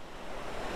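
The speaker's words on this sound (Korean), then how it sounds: "모처럼 영상에서 보던 폭포 저도 지나가네요" A roadside waterfall on the drive from Kathmandu to Manang in Nepal, heard as a continuous broad roar of falling water, steady and fairly loud, with no voices.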